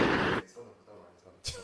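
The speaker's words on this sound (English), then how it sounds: "Press that gunshot," Gunshot sound effect played on request in a rap battle recap, a loud burst at the start, then quiet room tone and a second short bang at the end.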